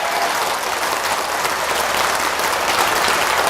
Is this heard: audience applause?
yes